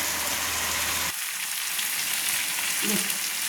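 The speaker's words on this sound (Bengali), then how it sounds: "চিকেনটা একটু কষাতে বাকি আছে, তাই আমি আবার ঢাকা দিয়ে দিলাম" Chicken sautéing in a covered pan for a chicken curry, with a dense hissing sizzle that drops and softens after about a second, becoming a steady muffled crackle.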